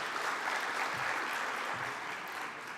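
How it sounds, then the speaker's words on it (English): Audience applause at a startup pitch event, a dense steady clatter of many hands clapping throughout, moderately loud and fading slightly toward the end. "big clap, guys, come on."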